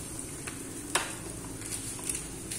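Pancit guisado ingredients stirred and frying in a pan, a steady sizzle with soft scraping strokes and one sharper utensil knock, close and fairly quiet.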